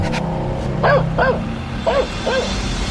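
A stray street dog barks four times in two pairs, nearby and fairly loud, over a steady rumble of traffic.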